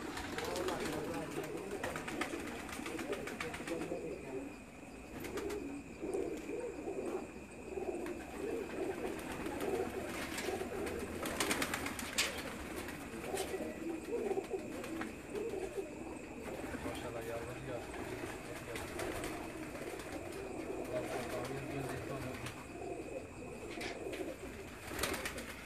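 Pigeons coo steadily on a rooftop in Mangla, Mirpur, Azad Kashmir, their soft repeated calls running throughout over a constant outdoor background, with some speech also present.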